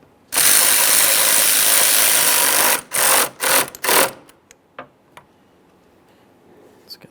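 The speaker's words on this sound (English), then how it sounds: "we can continue on tightening the hardware." A ratchet tightens headlight assembly hardware on a 2013-2020 Ford Fusion: a long, loud, rapid clicking run, then several shorter bursts and a few isolated clicks before it falls quiet.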